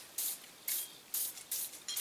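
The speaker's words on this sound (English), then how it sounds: "I usually spray down all my parts, let the oil or dissolve any carbon" Aerosol can spraying cleaning oil onto disassembled H&K USP .45 ACP pistol parts: five short, close, hissing bursts in an uneven rhythm with brief quiet gaps between them.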